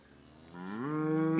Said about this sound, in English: Got a calf here trying to ride a cow.